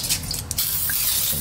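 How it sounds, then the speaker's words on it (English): Cooking spray hisses in short bursts onto both sides of a Presto waffle bowl maker, a close, loud aerosol spray over a low steady hum, with a faint clunk in between. "I'm gonna spray out, like I said, both sides."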